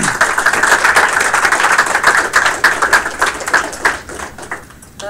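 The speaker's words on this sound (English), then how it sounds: "another round of applause for everybody" Loud, dense applause from an audience at a game studio build review fills the room steadily, then thins out and tapers toward the end.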